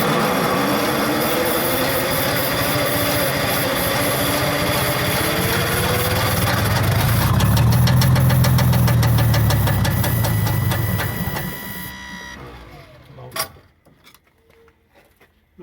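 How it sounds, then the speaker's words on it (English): A Detroit Diesel 6-71 engine starts and runs loudly for about twelve seconds with a steady knocking idle, then cuts out, leaving faint clinks and a sharp knock in near silence. "Well, now we know the engine runs."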